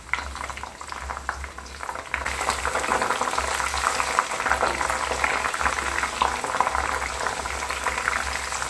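Homemade hair oil with hibiscus flowers and curry leaves boils in a pot, a close, continuous bubbling and crackling that grows louder and denser after the first couple of seconds and then holds steady.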